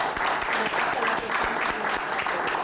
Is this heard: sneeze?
no